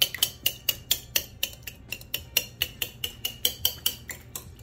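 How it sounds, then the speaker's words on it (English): A whisk beats ingredients in a bowl for a crab beignet batter, with about twenty quick, bright, clinking taps in a steady fast rhythm, close up and moderately quiet, with no talking. "So I'm just gonna whisk them really good."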